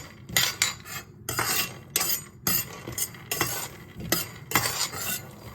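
Peanuts and sesame seeds being roasted in a pan, a spatula scraping and stirring in repeated bursts with clinks against the metal and the dry seeds rattling.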